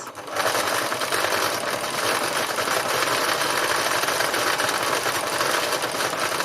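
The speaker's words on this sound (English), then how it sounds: "I'm going to do a little bit more stitching and just keep working into it." A sewing machine runs steadily, stitching thread into layered fabric in blue tones for a recycled textile art piece, a continuous close, loud mechanical whir lasting throughout with no talk.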